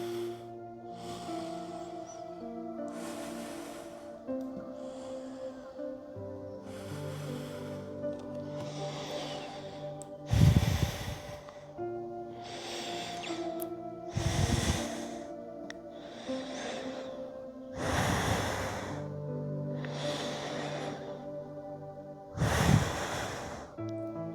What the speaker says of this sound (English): And just breathe in here. Inhale and exhale.